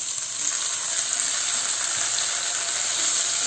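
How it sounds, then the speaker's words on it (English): Shallots, garlic and chopped tomatoes frying in a pan, a close, loud, continuous bright sizzle with faint stirring, no voices. "Fry everything well."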